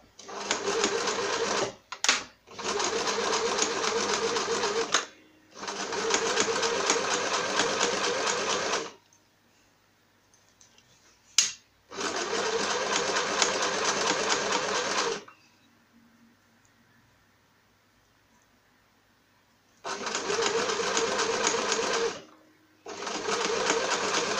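A sewing machine stitches fabric for a zippered pouch in loud, steady mechanical bursts of a few seconds each, stopping and restarting several times with quiet gaps between runs.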